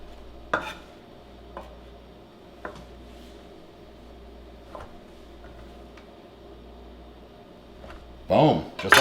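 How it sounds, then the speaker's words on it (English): A knife slices through typical corn tortillas on a board to cut them into chip wedges, giving a handful of faint, crisp ticks about a second apart over a low hum, ending with a louder rustling clatter. "We've got typical corn tortillas. We're gonna cut like a pizza."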